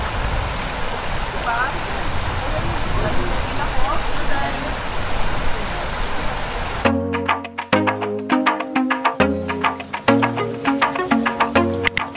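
Heavy rain pours down beside the Agos River in Infanta, Quezon, a loud, steady, dense hiss lasting about seven seconds before giving way abruptly to music.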